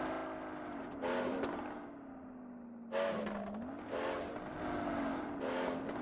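Car engine from PUBG Mobile, a droning motor whose pitch rises and falls as the vehicle drives, with several loud bursts of gravel and skid noise along the way and no one talking.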